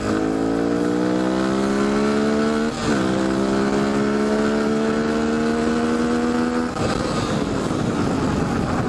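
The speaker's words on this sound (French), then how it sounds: "Je vais faire une petite accélération pour voir." A Beta RR 125 LC two-stroke motorcycle engine revs up loudly nearby in two rising pulls with a brief dip between, then drops back, with no talking.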